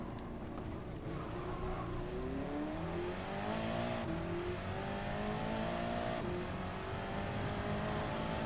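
Race car engines in Gran Turismo 7, with a Toyota Supra close by: several engines drone and climb in pitch together, with sharp shifts as the cars accelerate.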